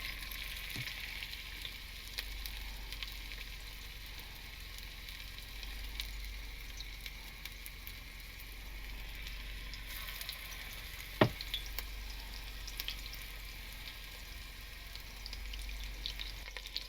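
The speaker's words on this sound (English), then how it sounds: "I'm going to roll out golf ball size meatballs, and we're going to fry them in the pan" Golf-ball-sized meatballs fry in hot oil in a pan at a winter truck campsite, giving a steady, soft sizzle throughout with one brief sharp click partway through.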